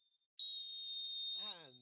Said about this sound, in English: And the whistle goes for half-time.